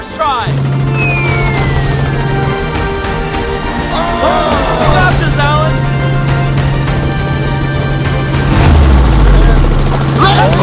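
A helicopter hovers about 260 feet up during a record attempt for the highest basketball shot. Its rotor and engine drone runs loud and steady throughout, with voices over it.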